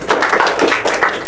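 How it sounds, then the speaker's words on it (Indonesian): A class clapping hands during an accounting lesson in a classroom, a short burst of scattered, uneven claps from several people, fairly loud and near. "Tepuk tangan dulu untuk Adel."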